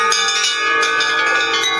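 A large bell on a bell rack, struck with a gentle pull of its rope at a New Year's Day bell-ringing ceremony, rings out loudly with a rich, sustained metallic tone and shimmering overtones that swell with a few repeated strokes, with no talking.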